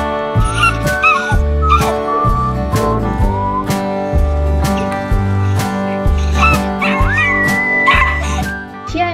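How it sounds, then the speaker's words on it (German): A small female dog in an animal shelter barks insistently, producing loud, closely repeated yips, barks and whimpers with hardly a pause throughout. "die kleine Hundedame fühlt sich in der Arche Noah überhaupt nicht wohl und bekundet es mit ständigem Bellprotest"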